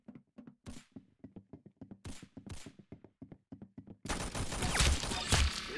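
Gunfire in the Roblox game Arsenal: a rapid series of sharp, clipped shots in bursts with a few longer blasts, then a dense, louder barrage of shooting and clatter at the end.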